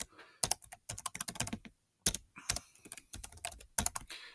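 Keys clatter on a computer keyboard as an email address is typed, quick bursts of close, crisp taps separated by one short pause.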